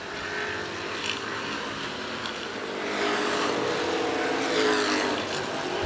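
Street stock race cars circling Winchester Speedway in a CRA race, a steady engine roar from the pack that swells louder toward the end, with no voices.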